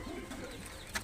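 A domestic Bengali pigeon gives a short, soft throaty coo, close by and alone, with a brief flutter near the end.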